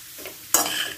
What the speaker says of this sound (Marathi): चपाती छान भाजली बघा